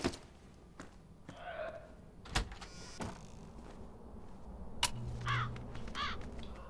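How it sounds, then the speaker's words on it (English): Crows caw a few times in the Zombi video game, short harsh calls scattered among clicks, thumps and ambient noise. "Stupid birds!"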